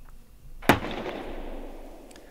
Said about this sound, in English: Let's start the shooting test with the Diana Bandit.